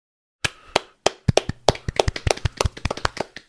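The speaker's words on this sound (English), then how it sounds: "Can I get some claps for episode 100?" A run of hand claps for a 100th-episode celebration, a few spaced claps followed by a quicker, uneven burst of sharp, close claps with no talking.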